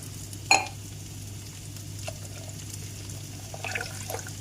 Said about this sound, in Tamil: இப்போ கெட்டி இல்லாமல் கிளறி விட்டுக்கலாம்